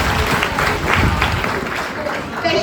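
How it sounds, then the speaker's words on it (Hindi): An audience claps loudly to welcome a speaker at a women's program, with dense applause and crowd noise that fades slightly midway. A voice talks over it. "जोरदार तालियों से स्वागत"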